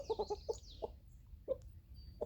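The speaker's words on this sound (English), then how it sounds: "Also got happy chickens." Chickens cluck nearby in quick soft bursts, a rapid run of clucks at first then scattered single calls, with faint birdsong in the background.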